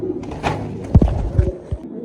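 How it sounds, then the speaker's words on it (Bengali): A pair of Archangel pigeons coo softly nearby with a few low throaty calls, mixed with light thumps and fluttering movement. "এখানে আছে এক জোড়া কবুতর"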